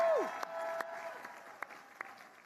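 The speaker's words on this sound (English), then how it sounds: "Right here, if you could give them a round of applause." Audience applause for faculty at the 2023 Herman Ostrow School of Dentistry of USC commencement ceremony: a steady, fairly distant wash of many hands clapping in a large hall, with a few sharper individual claps standing out.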